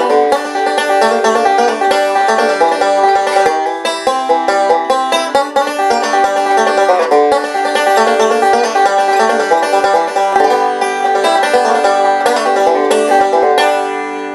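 Acoustic guitar picking the B part of the tune Big Tilda at a medium tempo, a steady, loud run of ringing notes played solo without any talk.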